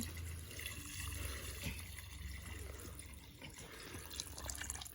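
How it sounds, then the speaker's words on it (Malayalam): Hot water is poured into a pot of soup, a faint liquid trickle and splash that runs softly and unevenly for a few seconds. "ഇതാ കുറച്ച് ഇതാ ചുടുവെള്ളം ഒഴിച്ചു കൊടുക്കുകയാണ്"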